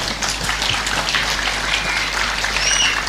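An audience at an Islamic lecture gathering applauds for a speaker, a dense steady clatter of many hands clapping throughout, fairly close and loud, with no talking over it.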